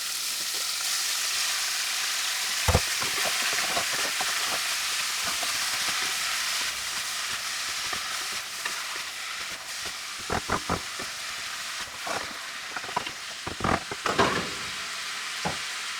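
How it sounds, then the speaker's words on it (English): Steady, broad sizzle of minced pork and beef frying in a hot pan, with occasional sharp clicks and scrapes of stirring over the continuous hiss. "we've now got our meat sizzling away nicely in a pan"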